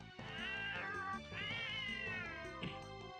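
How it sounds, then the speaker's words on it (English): Monsters in an N64 game that cry like stray cats, three drawn-out, wavering meows in a row, loud and close, with no talking. "some of them sound like stray cats."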